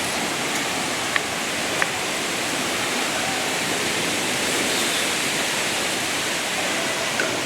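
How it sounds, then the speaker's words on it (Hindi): Amargarh waterfall pouring onto rocks, a dense, continuous broadband roar heard from nearby, steady and loud throughout with no speech. "हम साहब बिल्कुल अमरगढ़ वाटरफॉल के नज़दीक है।"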